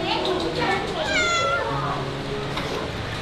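A cat with wounds meows in one drawn-out, rising and falling cry, close and clear, while people talk around it.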